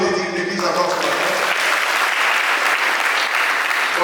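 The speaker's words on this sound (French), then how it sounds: "On va applaudir l'église encore ce matin." A church congregation applauds during a Sunday worship service, dense, steady clapping filling the room for several seconds, with voices faintly audible beneath it at the start.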